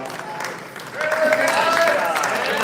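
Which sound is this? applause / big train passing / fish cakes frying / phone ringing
applause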